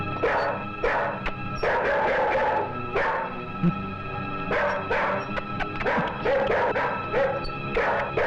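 A dog barks repeatedly in a Hindi film scene, loud and close, sharp barks and yips coming in irregular bursts with brief pauses over a steady background.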